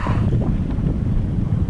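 Wind buffeting a microphone on a kayak anchored in grassy, mossy water while fishing in Missouri, a steady low rumbling roar that runs continuously and loud throughout.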